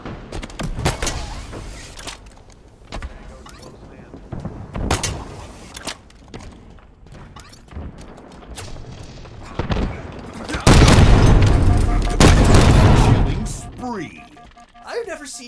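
Gunfire crackles through a Halo match in Fiesta mode, scattered sharp shots spread across the stretch with a loud, dense burst of firing near the end, mixed with in-game voices speaking throughout.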